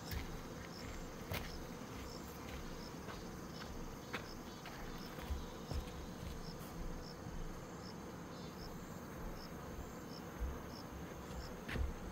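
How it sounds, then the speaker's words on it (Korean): A giant hornet hums near a beehive: a dense, continuous insect buzz that holds steady for the whole stretch with no talking. "그러면 저 장수 말벌이다."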